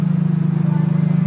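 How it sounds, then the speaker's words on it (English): A BMW M3 fitted with a custom exhaust runs up close and loud, its engine holding a steady, throbbing drone with a rapid pulsing rhythm and no voices over it. "Alright, this is exhaust that Kenny did on an M3"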